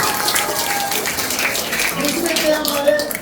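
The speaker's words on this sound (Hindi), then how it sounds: "बजाओ ताली।" Students clap for a teacher at a coaching centre inauguration and Sir Syed Day celebration, scattered clapping from a group heard under an ongoing voice.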